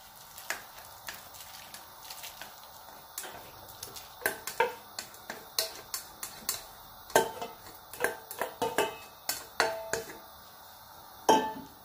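Minced pepper and courgettes tipped slowly into a cooking pot for a cassava leaf and beef sauce, heard as a string of sharp metallic clinks and taps of a utensil against the pot, irregular and close, with no talking.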